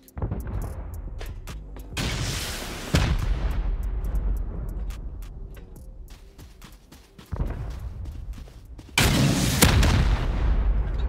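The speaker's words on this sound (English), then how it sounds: "Can do some rocket PvP in here." Heavy booming blasts from a video game PvP fight with rockets, several loud explosions arriving in bursts with short gaps between them, no voices over the barrage.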